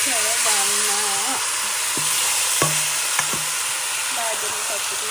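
Beef pieces for a curry fry in hot oil with a steady, loud broadband sizzle and hiss. Scattered stirring clinks and bumps sound over it, and faint melodic background music plays underneath.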